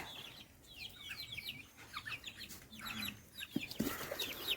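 Fighting-breed rooster clucking in short repeated bursts of calls, fairly faint against quiet outdoor background, with a couple of low thumps near the end.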